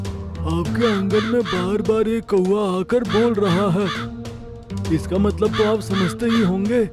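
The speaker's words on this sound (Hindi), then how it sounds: "हुजूर, आपके आंगन में बार बार एक कौवा आकर बोल रहा है।" A crow caws repeatedly in harsh, close calls while someone speaks over it.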